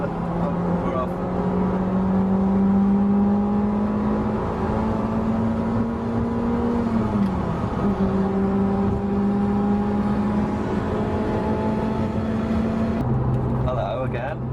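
A Ferrari F355 drives along with a steady engine drone, the pitch rising and shifting through the gears, heard from inside the car.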